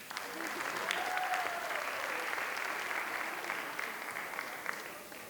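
Sustained applause and cheering from a school audience at a winter sports awards night, steady and dense across the whole stretch, with scattered whoops rising above the clapping.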